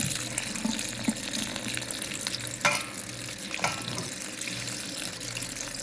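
Cold tap water gushes steadily in a constant broadband rush over cooked macaroni, with a few faint clinks and clatters of pasta and a pot beneath it.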